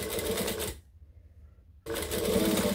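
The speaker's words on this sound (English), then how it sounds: "I am going to top stitch all the way along" A sewing machine runs top stitching along vinyl in two bursts of rapid, steady needle chatter, broken by about a second of near silence in the middle, close and fairly loud with no talking.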